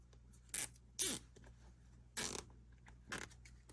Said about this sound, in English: Feed the zip tie through.